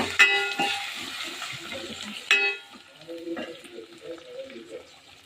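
Cumin seeds and curry leaves sautéing in a pan for sambar rice, with a bright crackling sizzle and stirring scrapes. Loud at first, then settling into softer spitting and clinks. No one talks.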